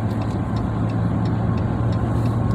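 A car cruises west on US 290 highway on a Sunday morning, a steady, loud engine and road roar with constant tire hum running unbroken throughout.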